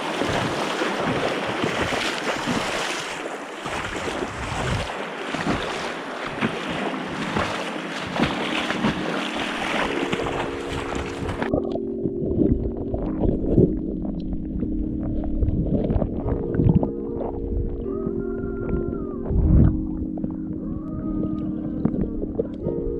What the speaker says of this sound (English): I'm gonna have to run through the rapids here again